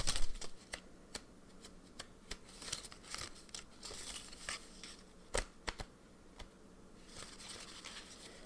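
Ink sample cards shuffled and handled on a desk give close, irregular papery flicks, rustles and crisp taps, with no talking.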